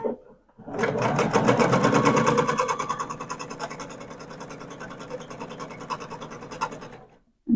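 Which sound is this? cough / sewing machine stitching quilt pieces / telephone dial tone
sewing machine stitching quilt pieces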